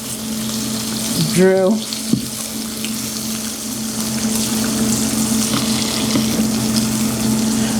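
Eggs fry in a pan on an All-Clad induction burner, a steady close sizzle with a constant electric hum beneath, briefly interrupted by a sharp rising squeal and a click near the start while someone speaks.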